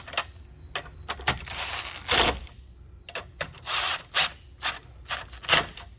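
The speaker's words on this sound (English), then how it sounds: "we're going to use a 10mm socket" A 10mm socket wrench ratchets and clicks while tightening the battery hold-down on a 2012-2015 Honda Civic Si, heard as sharp close clicks and short metallic bursts spread over several seconds.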